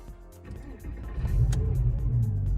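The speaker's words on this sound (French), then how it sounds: "On va allumer le moteur, histoire Ouais. d'entendre." A Porsche Boxster cabriolet engine cranks and catches close by, the starter whirring briefly before the engine fires into a rising, rumbling idle.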